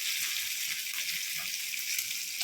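Fish pieces frying in oil in a pan for a Telugu fish curry, a steady, even sizzle throughout, close and alone with no talk.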